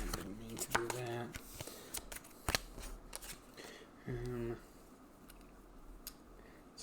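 Cards are riffled and shuffled during a tabletop play of the board game Winter, with a couple of quick ruffling bursts and taps against a quiet room while someone talks intermittently.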